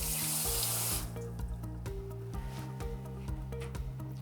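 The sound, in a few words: rinsing fish under running tap water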